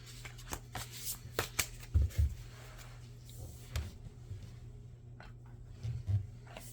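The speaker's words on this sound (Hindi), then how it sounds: "मैं इसलिए शफल कर रही हूँ" Tarot cards being shuffled by hand at close range, a series of quiet riffling and slapping bursts with soft knocks between them, no talk.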